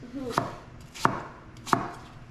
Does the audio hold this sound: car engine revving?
no